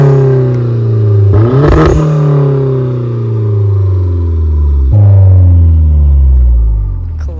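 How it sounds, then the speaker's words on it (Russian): A two-litre, 230-horsepower car engine cranks and catches, then revs in long rising and falling sweeps, with a second sharp rev near the end; loud and close. "я решила снять, как он включает машину"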